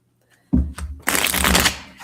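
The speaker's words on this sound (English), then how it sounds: "I'm going to use my prediction cards for this one." Deck of prediction cards being shuffled up close, a soft riffle followed by a longer, denser burst of papery flutter lasting about a second and a half, with no one talking.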